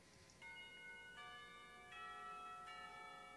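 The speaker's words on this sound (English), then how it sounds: "The clock tower bell rings, signaling the end of the period." Clock tower bell from the visual novel game Katawa Shoujo, ringing four evenly spaced, resonant strokes at low volume, each tone ringing on into the next.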